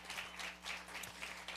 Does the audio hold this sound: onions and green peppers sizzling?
no